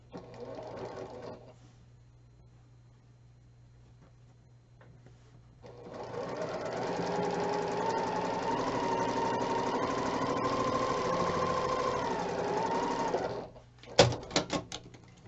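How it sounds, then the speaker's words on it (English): A sewing machine stitches rows of a quilt block together, a steady close mechanical whir running for several seconds after a quiet pause, then stopping with a few sharp clicks. "we're going to sew this row together"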